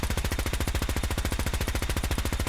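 A dual capacitor Gatling laser firing in a modded Fallout 4, a steady, fast, evenly pulsed stream of loud energy shots that runs without pause from start to finish.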